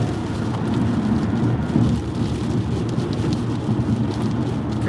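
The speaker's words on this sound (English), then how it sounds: "There's a lot of rain coming down on that side too. This is an impressive storm." Heavy rain from a thunderstorm in Las Vegas pours down in a loud, constant roar with no letup, with a faint low rumble beneath it.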